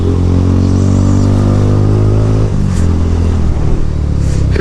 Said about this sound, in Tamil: எதுவுமே ஸ்கிஃப்ட் ஆகாமல் சூப்பராக போகுது பைக்கு